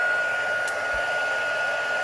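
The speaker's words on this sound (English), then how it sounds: "Now with your heat gun, sorry about the noise" Steady, loud rush of blowing hot air with a constant high whine, continuous throughout with no talking.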